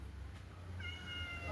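A house cat meows once, a clear rising-then-falling call in the second half, close by over a low steady background hum, with no talk.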